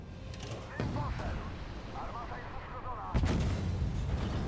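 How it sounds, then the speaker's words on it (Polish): A heavy tank cannon blast booms out in the video game Armored Warfare, followed moments later by a second loud shot over a constant rumbling engine and battle noise. "No i jeszcze jeden strzał."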